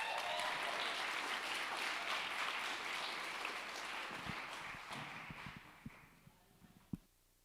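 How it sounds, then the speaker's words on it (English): Conference audience applause for a speaker takes the stage at a UX research event, a dense steady wash of clapping that slowly fades, leaving a few scattered claps and footsteps near the end. "Please give a warm round of applause to Zoe."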